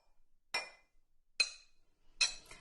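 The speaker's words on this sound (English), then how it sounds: "Stir in the yogurt or yogurt culture with the 1 cup of the warm milk." A spoon stirs plain yogurt starter into a cup of warm milk, giving three sharp, bright clinks against the container at roughly even intervals, with quiet gaps between them.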